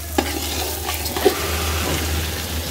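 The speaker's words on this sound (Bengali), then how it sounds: "আম্মু এদিকে চাল ভেজে নিচ্ছে।" Rice frying and being stirred in a pan for milk pulao, a close steady sizzle broken by a few sharp scrapes and taps of a spoon against the pan.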